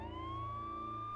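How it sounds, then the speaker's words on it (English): A police siren holds a steady high wail, slowly rising in pitch, with a low pulsing engine hum beneath it. "The sounds of sirens being heard in the distance was music to my ears"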